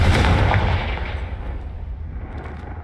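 Explosive Confringo spell cast in Hogwarts Legacy, heard as one heavy booming blast at the start that rumbles and decays over a few seconds, with faint crackles trailing off.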